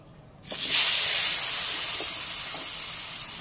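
Potato strips fry in hot oil for a Bengali pabda fish curry with potato and aubergine, a sudden loud hiss bursting in after a quiet start and settling into a steady, close sizzle.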